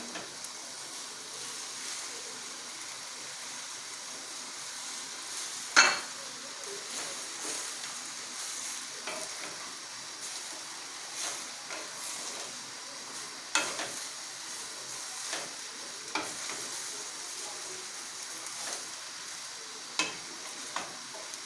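Fresh okra being stirred in olive oil in a pot, soft scraping and quiet sizzling with occasional light clinks of the spoon, faint and continuous.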